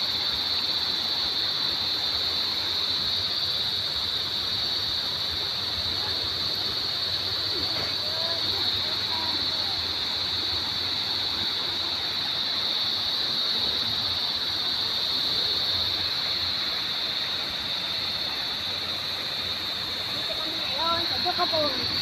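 Doka Falls waterfall at Barangay Arellano: a steady, broad rush of falling water with a constant hiss running the whole time, unchanging and fairly loud, with no clear voices over it.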